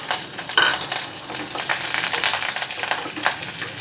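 Curry leaves and eight to ten dried red chilies hit hot oil with popped mustard seeds for mango pachadi, crackling in uneven bursts with light metallic clinks of a spoon against the pan.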